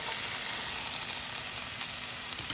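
Onions hitting about a tablespoon of hot oil in a skillet for taco filling, giving a loud, dense, steady sizzle with no talk over it.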